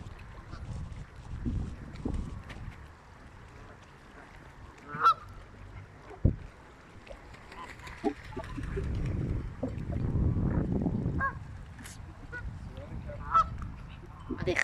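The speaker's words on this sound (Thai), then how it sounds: "ห่านมากมายเลยทะเลสาบ" Geese honk at a lake, their calls scattered in short bursts and a few louder close honks over a low, breezy background rumble.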